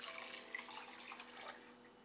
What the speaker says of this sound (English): I'm just rinsing out my spoon that I used to put the